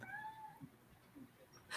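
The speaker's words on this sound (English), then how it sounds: "My cat's at the door." A cat meows at a door indoors, several drawn-out meows in the first second, then faint rustling and a brief louder burst at the end.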